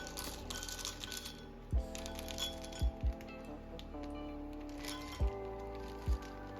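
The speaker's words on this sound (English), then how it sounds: "Now let's add 2 cups of penne into the hot pot." Dry penne pasta poured into a hot pot, a series of crisp clinks and taps as pieces hit the metal over a steady low hum, close and without talk.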